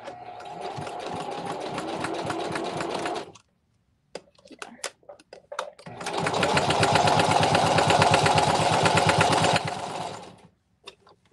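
A sewing machine stitches fabric with a fast, steady mechanical chatter in two long bursts, first about three seconds and then about four, separated by a quiet pause with a few small clicks as the stitch is reversed; loud and close.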